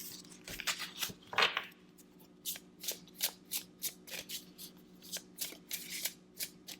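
Tarot cards are shuffled by hand at close range, a quiet series of crisp riffling flutters repeating in a steady rhythm with no talking.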